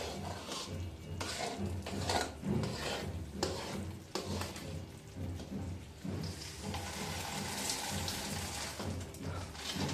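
Roasted peanuts stirred into hot syrup for crunchy peanut chikki, a steady scraping and clinking of a spoon against the pan with a soft sizzle, fairly quiet and continuous with no talk.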